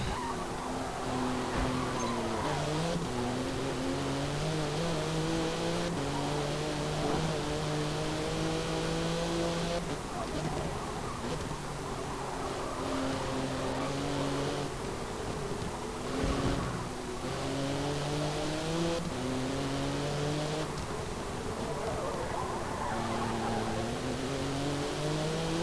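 A race car in Forza Motorsport 7 revs through repeated gear changes, its engine pitch climbing and dropping in a steady cycle over a loud, continuous drone with no voices.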